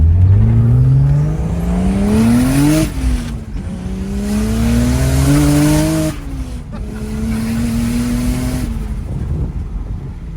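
An E36 M3 that sat neglected for ten years idles loudly and is revved hard three times. Each rev sweeps up in pitch and then drops back, with a raspy exhaust tone that carries throughout.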